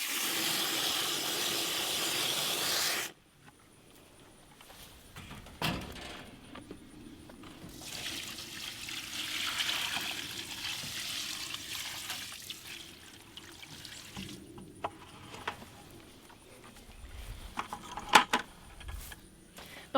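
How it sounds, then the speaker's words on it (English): A steady rush of water poured from a bucket into an animal pen lasts a few seconds, followed by quieter trickling, rustling and scattered knocks and clinks of handling around the pen. "So I'm going to fill this bucket with some water and then pour it in there."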